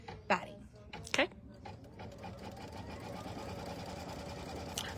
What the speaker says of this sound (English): The first stitch is gonna go directly on top of our stabilizer, and it is going to be a placement stitch for our batting.